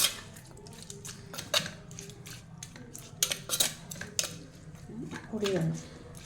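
A spoon scrapes and clinks against a dish while chopped tomato and green chillies are mashed and mixed for a fish curry. Intermittent metallic taps come with soft squishing, close and fairly quiet.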